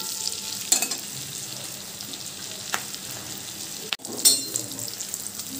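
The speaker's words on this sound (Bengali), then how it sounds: "তো এরপর ওই স্লাইস করা পেঁয়াজগুলিকে হালকা করে তেলে নেড়ে নেব।" Sliced onions frying in oil in a pan, a faint continuous sizzle with a few soft scrapes and taps of stirring, close but quiet with no talk.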